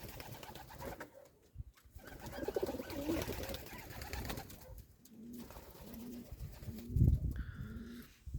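Sport pigeons coo in a rural loft in Ukraine, several soft, repeated low coos in a rhythmic series, fairly close, with faint background rustling and no talk.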